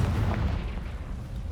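A Confringo blast spell in the video game Hogwarts Legacy gives a dense, rumbling explosion that fills the whole moment, low and booming with no clear gaps.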